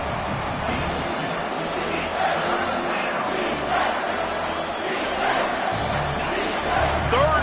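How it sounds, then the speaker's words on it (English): A dense stadium crowd at a college football game between Michigan and Michigan State roars steadily, loud and continuous, with swelling cheers throughout. "this crowd will blow out a vocal cord to help this defense"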